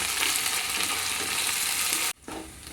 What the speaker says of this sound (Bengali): এটাকেও আমি পেঁয়াজের সাথে একটু ভেজে নেব যতক্ষণ না আদা রসুনের কাঁচা গন্ধটা চলে যায়